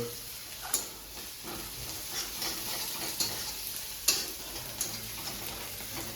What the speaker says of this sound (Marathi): कांदा टमाटर परतून घेत आहे